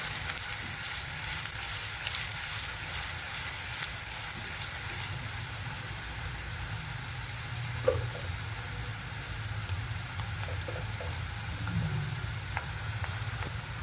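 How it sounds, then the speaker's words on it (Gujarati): Finely chopped onion frying in oil and ghee, a steady soft sizzle that runs through the whole stretch, with a faint clink near the middle. "હવે આપણે તેમાં ડુંગળી નાખી છે, ઝીણી સમારેલી ડુંગળી છે."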